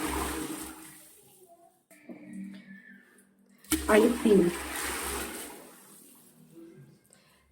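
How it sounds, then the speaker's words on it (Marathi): Water is poured from a pot into a bucket holding leftover paneer whey, a short gushing splash in the middle of the clip, with a person talking quietly before and after it. "आता आपलं नॉर्मल जे पाणी असतं ते ओतायचं आहे एक पातेल ओतलं मी दोन"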